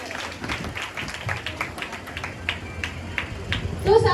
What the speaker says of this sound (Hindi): एक बार जोरदार तालियां नारी शक्ति के लिए।